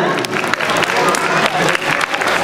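Applause for a winning children's group at a kids' performance event, a short burst of steady clapping from a small crowd, with voices mixed in underneath.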